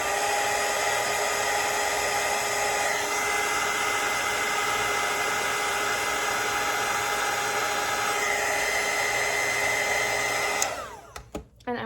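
Hair dryer blowing on a watercolour lemon painting, a loud, steady whooshing roar that runs unbroken for about ten seconds before switching off.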